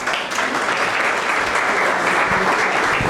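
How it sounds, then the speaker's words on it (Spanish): Audience at a talk about disability certificates gives a doctor a strong round of applause, a continuous dense rush of clapping that stays loud and even throughout. "démosle un fuerte aplauso"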